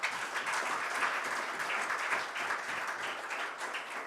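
Applause from the audience at a talk, a moderately quiet, even patter of many hands clapping continuously for about four seconds.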